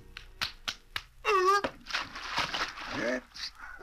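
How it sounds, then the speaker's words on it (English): A cartoon seal on an iceberg claps its flippers in a quick series of sharp, dry slaps, then a high voiced exclamation and cartoon speech follow close up. "I can clap my flippers too."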